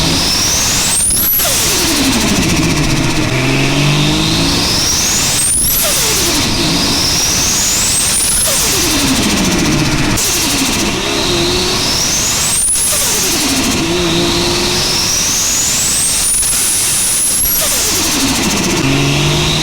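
A Nissan S14 drift car engine revs hard several times in a row, each rise climbing to a high whine before dropping back, loud and close.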